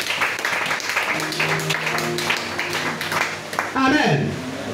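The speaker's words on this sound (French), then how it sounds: "Acclame Jésus-Christ" A church congregation applauding to acclaim Jesus Christ, a dense wash of clapping under a loud voice that rises into a final shout.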